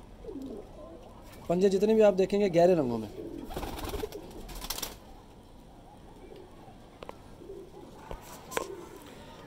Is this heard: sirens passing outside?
no